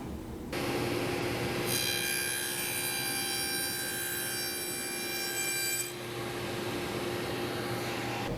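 A Woodpeckers Ultra Shear flat-top dado blade on a running saw cuts a cross-grain dado in plywood: a loud, steady high whine from the spinning blade, with a harsher cutting tone for about four seconds in the middle, no talking.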